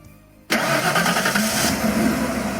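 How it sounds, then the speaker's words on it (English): A truck engine cranks and catches after a brief quiet moment in a visual novel game, then settles into a loud, steady running rumble with a slight rev, heard close and alone. "Starts the engine and the truck tows the trailer along."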